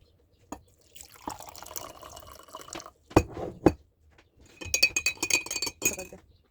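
Vinegar and water poured into a drinking glass, with a short trickle and clinks of glass, then a second brighter run of pouring and tinkling, close and fairly quiet.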